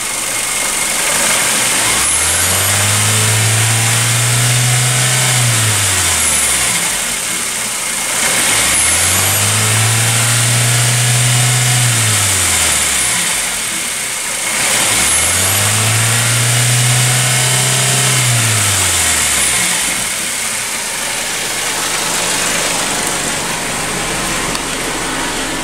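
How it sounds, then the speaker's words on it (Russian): A 2-litre 16-valve Suzuki J20A engine from a Grand Vitara, about 341,000 km and with engine fault codes, revs hard three times in a row, each loud rise held briefly and then dropping back to idle, with no talking. "Работа двигателя на высоких оборотах."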